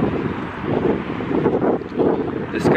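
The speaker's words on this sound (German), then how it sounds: "Es kann sein, dass es ein bisschen windig ist," Gusty wind buffets the microphone while climbing to a high lookout in Göreme, Anatolia, a rough roar rising and falling in waves for a few seconds.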